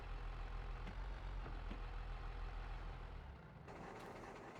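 A 7610 planter tractor engine runs steadily at a low, rumbling idle, close and continuous, easing slightly quieter near the end with no talk over it.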